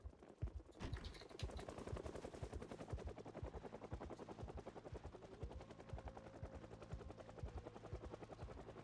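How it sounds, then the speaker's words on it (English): Helicopter in a zombie video game, a steady rotor chop running throughout alongside bursts of rapid gunfire, dense and loud over a busy game soundscape. "That's the helicopter."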